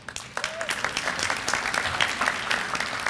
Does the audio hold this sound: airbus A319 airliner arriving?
no